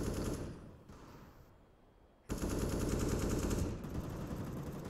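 Desert Eagle pistols firing in a CS:GO match on the Train map: moderate gunfire at first, then a sudden loud, dense barrage of close shots halfway through that carries on to the end.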